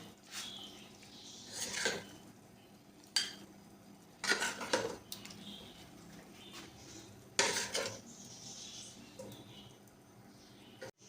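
Achari potatoes are scooped out of a pan into a serving dish, with several distinct clinks and scrapes of a spoon against metal spaced out over quiet gaps, close and moderately soft with no talking.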